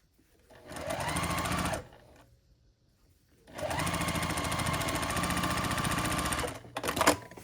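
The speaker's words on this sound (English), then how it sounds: "So I'll just match this up and sew." A sewing machine stitches quilt block pieces in two steady, close runs of rapid whirring separated by a short pause, with a brief burst at the end.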